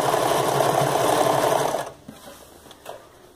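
Sewing machine running fast, stitching a seam on a child's skirt made from fabric scraps, a steady close whir for almost two seconds before it stops, leaving faint handling noise.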